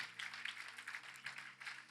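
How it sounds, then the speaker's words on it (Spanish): A church congregation applauds in a steady, moderately faint patter of many hands, with no voices over it and a low hum underneath. "Dele un aplauso a la palabra, aleluya."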